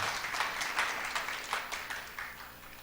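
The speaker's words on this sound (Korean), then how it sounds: "큰 박수 부탁드리겠습니다" A church congregation gives a soft, fairly distant round of clapping that holds steady for a few seconds with no talking over it.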